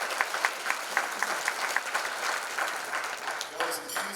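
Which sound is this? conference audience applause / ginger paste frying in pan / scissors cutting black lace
conference audience applause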